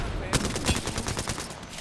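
Rapid automatic gunfire in the video game Apex Legends, a fast run of sharp shots rattling steadily for about two seconds over the game's background sound.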